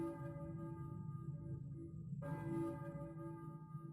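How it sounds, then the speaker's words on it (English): A bell tolls faintly in the distance inside the Silent Hill video game, a sustained ringing tone over a low rumbling ambient drone, with one fresh strike partway through. "it sounds like I hear a bell ringing in the distance"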